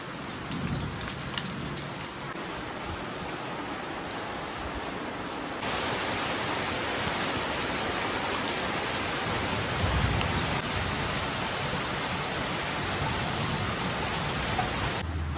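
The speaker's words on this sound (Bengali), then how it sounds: "এবছর বৃষ্টি থামার নাম নেই গো" Steady rain falls heavily on surfaces nearby as a continuous hiss. It grows louder partway through and carries on without pause.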